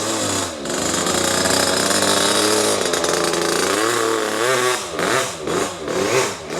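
A motocross motorcycle engine revs loudly and roughly, holding a harsh buzzing drone before several uneven throttle blips rise and fall near the end, close by with no talk.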